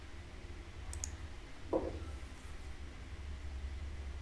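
A couple of quick, faint computer mouse clicks during Fusion 360 3D modeling work, followed a moment later by a single soft tap over a quiet room hum, with no talking.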